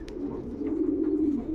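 A racing pigeon hen, a breeding dam, coos in a low, continuous throaty rumble close by, with a faint chirp at the start and end.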